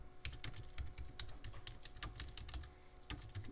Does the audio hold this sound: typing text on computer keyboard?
yes